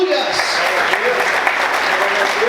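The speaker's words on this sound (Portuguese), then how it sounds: "Pode aplaudir Jesus por isso, aleluias." Church congregation applauding, a sustained wash of many hands clapping at steady loudness, with voices calling out beneath it.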